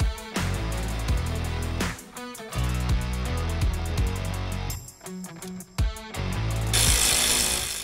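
Power tools and a ratchet work on the high pressure line bolts of a Jeep JK steering gearbox, 10-millimeter bolts on the frame, in loud bursts of buzzing and clicking with brief pauses between.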